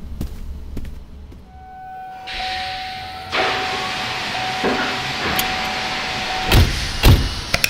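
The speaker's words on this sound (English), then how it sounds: "I'm gonna fire up the cruiser." A sci-fi space cruiser powers up: faint sustained tones, then a broad rushing swell that steps up louder into a steady engine hum, with a few sharp clanks near the end.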